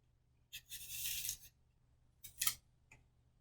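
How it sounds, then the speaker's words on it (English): A knife carves faces into peeled apples, producing two faint, close bursts of scraping, slicing sound separated by a quiet pause. "Now I'm just going to cut faces into all of my apples."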